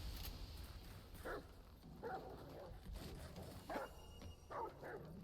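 Repeated dog barks in the video game Remnant, about five short distinct yaps spaced roughly a second apart over a low rumbling game background.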